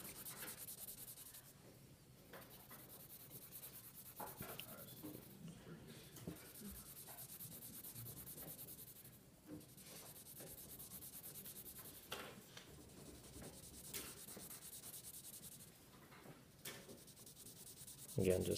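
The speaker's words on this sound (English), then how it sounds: "Again, just layering with a soft pencil tip. Using the 6B pencil." Soft 6B pencil shading on paper, layering a value scale: steady, quiet scratchy rubbing strokes in a continuous back-and-forth rhythm, close up, with occasional brief pauses and no talk.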